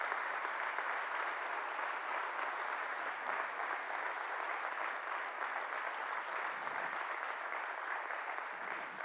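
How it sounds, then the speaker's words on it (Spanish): Church congregation applauding together in a strong, steady burst of clapping that holds evenly for about nine seconds, a dense wash of many hands at a moderate distance with no talk over it. "Dale un fuerte aplauso a Jesús."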